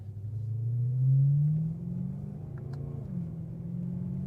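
A BMW E92 M3 with its high-revving V8 drives on an open road, the engine note rising in pitch as it revs, then easing back into a steady low drone with road rumble.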